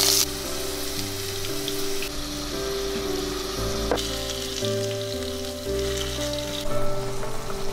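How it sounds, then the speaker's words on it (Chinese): Potato pieces frying in oil in a pan until golden, a loud continuous close sizzle with crackling, layered with background music and no voices. "重新取个锅，把土豆放下来煎到金黄。"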